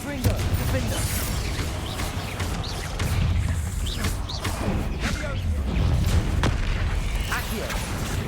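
Magical blasts from Bombarda and Confringo spells burst repeatedly in Hogwarts Legacy combat on PS5, a dense run of booming thuds and crashes over continuous battle noise, with spoken spell incantations mixed in.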